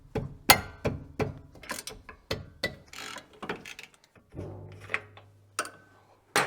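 A ratchet working a brake caliper bolt on a Mitsubishi Eclipse GSX, a run of loud, close, rapid clicking bursts with short pauses between strokes, and a low mechanical hum in the last seconds.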